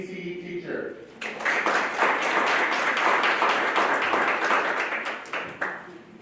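A school board meeting audience gives new district employees a round of applause. A voice speaks briefly, then dense, steady clapping from many hands swells up and holds before tapering near the end.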